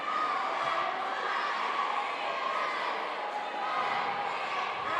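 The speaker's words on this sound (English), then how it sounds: "And just how loud this crowd is" A loud crowd cheers at a high school boys basketball game between Norwell and New Haven, with the student section roaring in a continuous, dense wall of shouting and yelling that never lets up.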